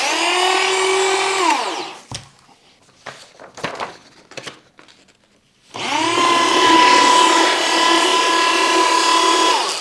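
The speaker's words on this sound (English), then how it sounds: "I really like how easy it is to use and how quickly it shreds documents" A TRONIC TAV 190 A1 paper document shredder whirs loudly as it chews through paper for about two seconds, falls quiet with a few clicks and rustles, then runs again in a long steady grinding burst.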